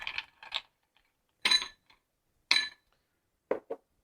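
Cocktail strained over ice into a lowball glass while mixing a rum Jungle Bird, giving a few separate clinks and rattles of ice and glass, spaced about a second apart, fairly faint and without talk.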